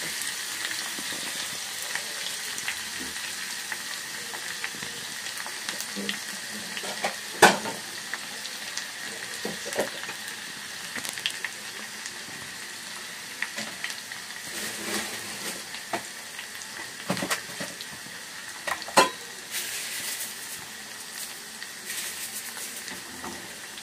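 Crushed garlic frying in oil on a low flame, a steady soft sizzle running throughout with occasional sharper crackles and stirring scrapes, close and fairly quiet.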